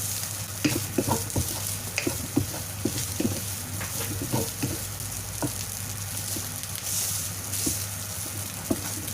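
Garlic fries in a pan with a steady sizzle, and a utensil stirs it with repeated light scrapes and taps throughout. It is close and continuous, with no talk.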